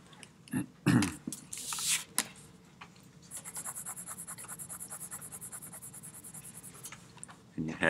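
A mechanical pencil scratches across paper while drawing, starting with a few loud, uneven scrapes and rubs, then settling into a steady run of quick, close back-and-forth strokes before one more louder scrape at the end.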